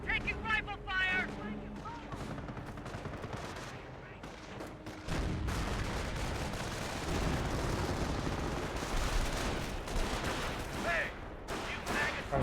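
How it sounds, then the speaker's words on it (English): Dense rifle and machine-gun fire from a Company of Heroes battle, rattling volleys and bursts running almost continuously at a loud, fairly close level, with a heavier wash of gunfire after the midpoint. "Taking rifle fire!"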